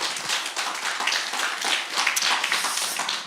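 A church congregation at a worship service claps together in a sustained, dense round of applause that holds steady for several seconds without speech.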